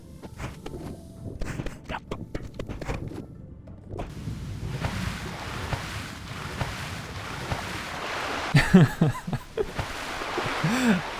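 A character swims across a river in World of Warcraft Classic, with soft rhythmic water strokes and splashes under an airy ambient wash, growing busier and louder toward the end.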